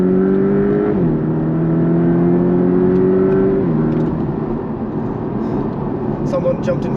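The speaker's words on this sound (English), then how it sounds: "put into Sport Plus and floor it" A Porsche 718 Cayman (982) in Sport Plus mode accelerating hard onto a dual carriageway: a loud, close engine drone climbs in pitch, drops at a gear change, then climbs again, with some talk over it.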